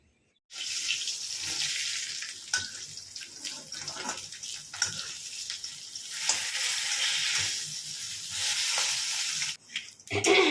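Cumin seeds sizzle in hot oil, a loud, close, continuous hiss that starts abruptly and surges and dips throughout before cutting off near the end.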